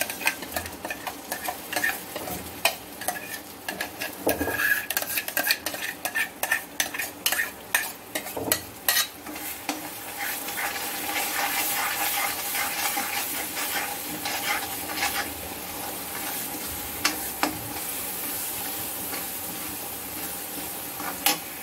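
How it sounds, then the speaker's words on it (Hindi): Kadhai paneer gravy with its tomato purée fries on high flame in a kadhai, a steady loud sizzle under repeated scraping and clattering stirs of a spoon against the pan, no voices. "इन सबको हम ऊपर तेल आने तक फ्राई करेंगे।"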